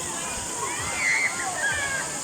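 Natural spring water flows and sloshes steadily nearby at pools in Tanay, Rizal, a soft continuous rush with voices talking over it.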